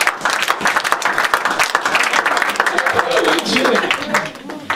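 A church congregation applauds and claps together in worship as a dense, continuous wash of clapping fills the room for several seconds.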